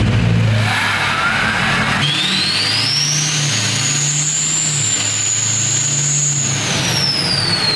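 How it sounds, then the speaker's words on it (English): A Ford 6.0L Powerstroke diesel truck with blown head gaskets starts up and revs hard on a dyno, a loud close engine roar climbing in pitch and holding high before easing off, with a whine rising over it. "So we're gonna fire it up and see how much better or how much more power this truck makes."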